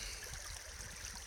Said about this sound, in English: The creek's going this way.